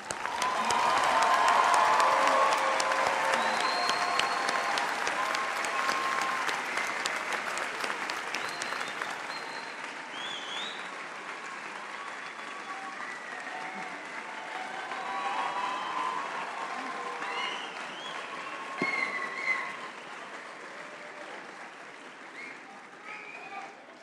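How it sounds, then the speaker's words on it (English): A large audience applauds graduates at a university commencement ceremony, with sustained dense clapping and some cheering that slowly thins and fades over about twenty seconds in a big hall. "give a warm and well-deserved round of applause to our graduates"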